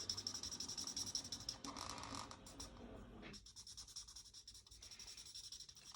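A marker scratches back and forth across a kraft paper treat box, quiet close-up rapid rubbing strokes with brief pauses, no talking.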